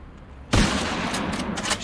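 Gunfire in the shooting game Sniper Attack 3D: one loud sharp report hits suddenly, then a dense rattling burst of further shots and echoes fills the rest of the moment.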